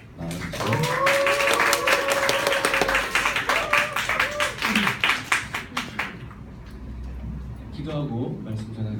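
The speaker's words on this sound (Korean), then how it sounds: "나오실 때 박수로서 환영해 주시기 바랍니다" A church high school congregation in a Korean Presbyterian service applauds to welcome a preacher, with loud rapid clapping that thins into scattered claps and fades, followed by quiet room sound and a voice near the end.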